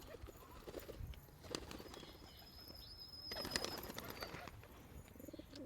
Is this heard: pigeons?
yes